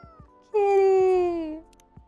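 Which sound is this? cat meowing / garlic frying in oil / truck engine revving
cat meowing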